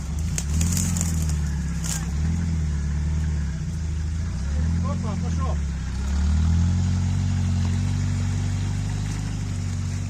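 A Niva off-road car pushed to full throttle on a muddy offroad trail along a river, its engine droning and surging loudly in waves, with voices talking over it.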